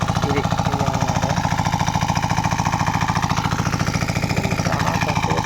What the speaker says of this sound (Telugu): ఇదిగో ఇక్కడైతే ఇంజన్ స్టార్ట్ చేసినాను నేను